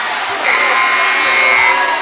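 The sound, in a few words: Catoctin crowd cheering at a sports game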